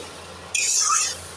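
Water is poured into a semolina (suji) mixture for a spicy snack, giving a brief, close splashy burst of about half a second over a quiet background.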